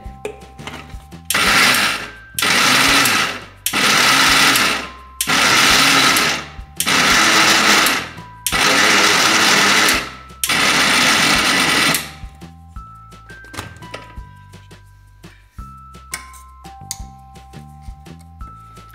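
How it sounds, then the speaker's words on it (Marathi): A mixer grinder grinds roasted flaxseed for chutney in several loud bursts of whirring, about six pulses each roughly a second or two long, separated by short pauses, followed by quieter clinks and handling sounds. "आपण असंच करून थोडीशी अजून बारीक करून घेऊया"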